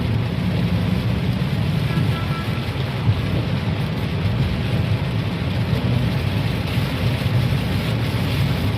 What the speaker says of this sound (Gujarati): જોરદાર વરસાદ પડે છે